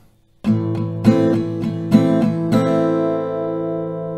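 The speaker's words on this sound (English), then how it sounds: "So the strumming goes with 8 down, and it sounds like this." An acoustic guitar chord strummed in eight even downstrokes, several sharp attacks in a row before the last chord rings out and fades.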